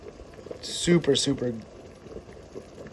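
Ramen broth at a boil as it reduces in a pot, a soft steady bubbling that runs under nearby speech through the first half and then carries on alone, faint and continuous.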